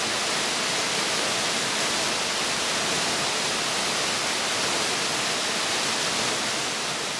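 Saltón waterfall in a forest reserve roars as a loud, steady, broadband rush of falling water, continuous and close, with no voices.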